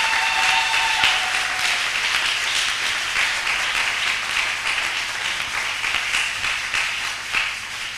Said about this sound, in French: On acclame cette fois-là très fort.